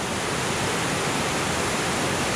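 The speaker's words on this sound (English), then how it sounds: "We have had a lot of heavy rain. And you can see just how forceful the water is coming down there." Forceful water plunges down the falls at Lydford Gorge on Dartmoor after heavy rain, a steady loud roar of white water and spray that fills the air evenly.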